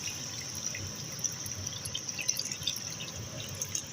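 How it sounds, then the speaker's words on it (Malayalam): Water is poured into a pan of beef curry masala, giving a soft, steady trickle and dripping splash that runs the whole time, moderately quiet and close. "നമുക്ക് പാകത്തിന് വെള്ളം ഒഴിക്കുക"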